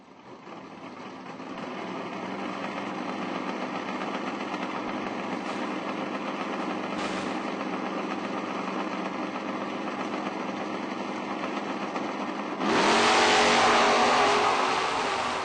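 Drag racing cars at a footbrake event, a Mopar in the left lane and the Lockhart Camaro in the right, hold a steady loud engine drone before a sudden harsher burst of revving near the end.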